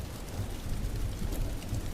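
Steady rain falls on a surface in a stormy night-time city scene, with a dense, even hiss and soft low rumbling that continue throughout without any voices.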